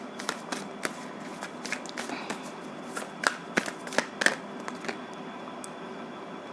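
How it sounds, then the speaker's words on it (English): Moonology Oracle cards shuffled by hand in repeated soft riffles and brisk snaps, close and fairly quiet, with sharper card slaps clustering midway and no talking. "Let's pull a couple of cards from the Moonology Oracle and see what's the message for you"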